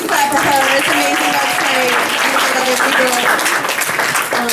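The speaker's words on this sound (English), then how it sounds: "You can clap for her." Audience applause fills a talk event hall in Detroit, a steady broadband clapping wash that runs loud and continuous, with a speaker's voice carrying over it.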